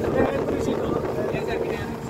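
Wind buffets the microphone in a steady rumble over a boat on open sea off San Antonio, Calatagan, Batangas, with voices faintly mixed in.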